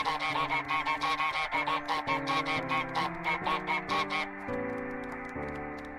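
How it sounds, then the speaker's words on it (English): A cartoon goose in Untitled Goose Game gives a rapid run of about fifteen evenly spaced honks, loud and close, followed by a longer sustained honk and a fading tail. "Honk louder, fellow goose!"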